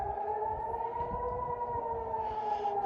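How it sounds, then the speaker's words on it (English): A steady, droning air raid siren wails continuously at a fairly even pitch, sounding distant and carrying over faint background noise. "the next video is going to be the actual sirens"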